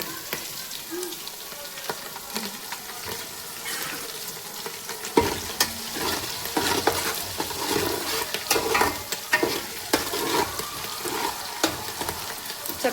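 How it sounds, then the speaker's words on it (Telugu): Drumstick pieces fry in a pan for sambar with steady sizzling and crackle that grows busier and louder after a few seconds, with scattered sharp pops, close and without talk. "చక్కగా వేగుతున్నాయి కదండి"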